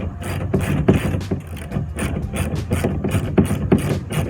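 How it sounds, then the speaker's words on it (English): A socket wrench ratchets in quick, repeated clicking bursts while tightening bolts with a nut underneath on a Lifetime 46-inch polycarbonate basketball hoop, model 90584, close and clear. "So I gotta tighten the bolts with the nut underneath here."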